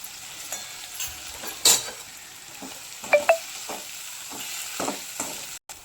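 Eggplant curry sizzles steadily in oil in a pan while a utensil stirs and scrapes, with a few sharp clinks against the metal.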